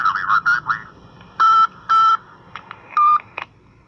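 Telephone keypad tones dialing 911, a series of crisp electronic beeps in uneven bursts, some short and some held longer, loud and close with no voices.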